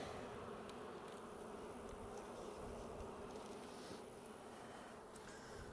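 Honey bees buzzing steadily around an open hive outdoors, a dense continuous hum at constant, moderate loudness with no voices.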